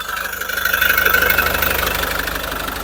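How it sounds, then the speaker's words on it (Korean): A SsangYong Rexton Sports Khan 4WD pickup with about 30,000 km idles steadily with its hood open, humming with a faint rhythmic ticking, close and fairly loud, unbroken for a few seconds with no talking. "엔진 사운드 바로 체크하겠습니다."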